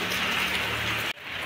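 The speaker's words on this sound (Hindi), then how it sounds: "बारिश की आवाज़ आ रही होगी, हमारे तो आज बारिश आई हुई है।" Steady rain falling on a wet day during the Janmashtami festival in India, a dense close hiss that runs continuously, drops out abruptly for a moment, then resumes.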